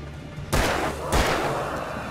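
Two loud shotgun blasts from the Alan Wake game, about half a second apart, each with a sharp crack and a short decaying boom, alone with no talk.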